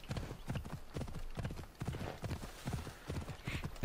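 Galloping horse hooves from riding in Assassin's Creed Odyssey, a steady rapid clip-clop rhythm at moderate volume, with a brief whinny near the end and faint talk underneath.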